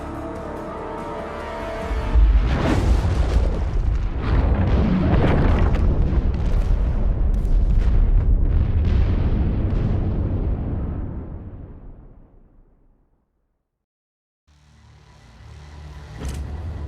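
Artillery fire and explosions in The Expanse game: a heavy rumbling barrage of booms and bursts that builds after a couple of seconds, roars on at high volume, then fades to brief silence before another loud rumble starts.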